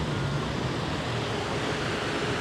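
Sea waves wash steadily onto Patong Beach in Phuket, a constant broadband surf hiss with some wind noise, moderately loud and with no voices.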